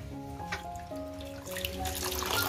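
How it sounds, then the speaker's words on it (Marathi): Water poured into a pot on a wood-fired clay stove for boiling oysters, a brief splashing, running pour that builds slightly louder over a couple of seconds with no talk. "थोडं पाणी टाकायला लागेल."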